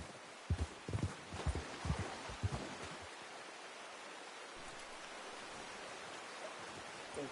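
Horse hooves clip-clop in the Red Dead Redemption 2 video game, a few soft thuds in an uneven gait early on that fade into a quiet, steady rushing background.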